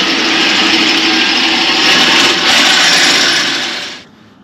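Power drill boring holes for a bracket while fitting a RAM 3500 truck, a loud continuous whirring grind that holds steady for about four seconds, then cuts off abruptly.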